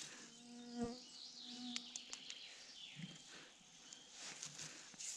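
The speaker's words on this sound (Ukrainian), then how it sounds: "пищать кругом комарі" Mosquitoes whine around a person in a forest during a chanterelle hunt, thin high buzzing drifting near and far with faint bird calls and rustling footsteps.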